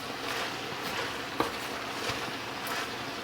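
Onions and other ingredients being stirred in a pan, with a soft steady sizzle and a few faint utensil scrapes and one brief clink, no talking.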